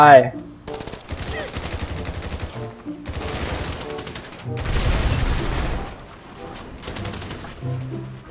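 Bursts of rapid gunfire and a heavy explosion from GTA V, loud and continuous with brief gaps, ending in more shooting.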